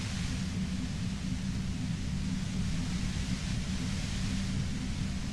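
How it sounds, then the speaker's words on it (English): Steady static white noise hisses evenly throughout, with a heavy low rumble underneath. It stays constant and loud with no pauses or voices. "You hear through the white noise."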